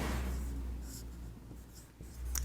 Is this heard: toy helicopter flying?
no